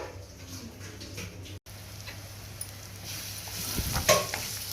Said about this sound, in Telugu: సో ఉల్లిపాయ బాగా వేగేసింది